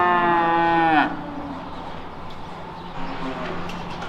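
An Angus heifer lets out a single loud, drawn-out moo near a pickup truck on a farm, followed by quieter barn background noise.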